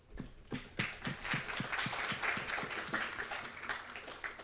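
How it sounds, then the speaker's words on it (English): A small group claps, starting with a few scattered claps and quickly building into steady, moderately loud applause lasting several seconds. "join me in giving all the speakers today a warm round of applause"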